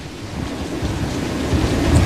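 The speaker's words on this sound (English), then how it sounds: "We've been having these tropical storm force winds now for hours and hours, Chris." Tropical storm force winds from Hurricane Irma in Miami roar steadily into a microphone, a dense low rumbling gust noise that builds slightly louder toward the end, with no voices.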